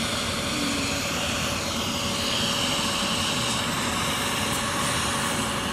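Helicopter engine and rotors running outside on a rural road before takeoff, a loud, continuous mechanical roar with a steady whine, close by and unbroken, with no talk.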